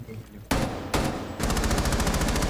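Gunfire in the video game Rainbow Six Siege: two sharp loud shots land about half a second apart, then a rapid automatic burst rattles on steadily to the end, close and loud.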